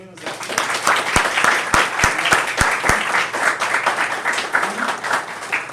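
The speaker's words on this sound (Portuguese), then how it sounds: "Palmas para os meninos aqui." A room full of people applauds at the close of an emotional intelligence training session: dense, continuous clapping with a few loud claps standing out close by, and voices mixed in beneath.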